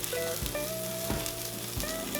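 Carrots rubbed with olive oil, salt, pepper and garlic sizzle and crackle on a Chefman electric smokeless indoor grill, a close, steady frying hiss with a few clicks of turning, and no voices.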